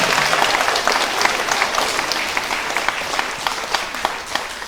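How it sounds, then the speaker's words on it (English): A room full of people applauds at a spelling bee, a dense, even patter of clapping that holds steady for several seconds. "Now we can give everyone a round of applause."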